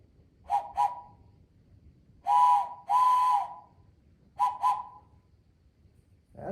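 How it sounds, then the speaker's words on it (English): A child's toy train whistle blown in a series of close, shrill toots: two quick short blasts, two longer sustained ones, two more short blasts, then the start of another. "Oh, you found your train whistle?"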